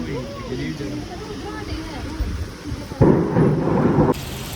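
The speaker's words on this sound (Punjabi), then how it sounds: "ਇੱਥੇ ਬਾਰਿਸ਼ ਵੀ ਸਟਾਰਟ ਹੋ ਗਈ ਹੈ" Rain beginning to fall in the mountains near a gurdwara at Manikaran, a soft steady patter that swells louder toward the end, with voices talking over it.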